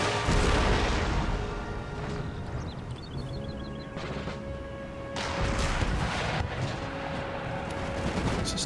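Cannon fire battering fort walls in the strategy game Empire: Total War, a dense, continuous barrage of booms and crashing impacts with scattered musket-like cracks, loud and unbroken throughout.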